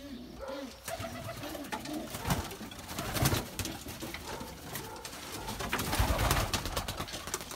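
Pigeons coo softly in a coop, with low rounded calls and light rustling and fluttering of birds close by.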